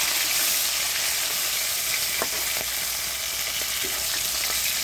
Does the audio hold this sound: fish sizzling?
yes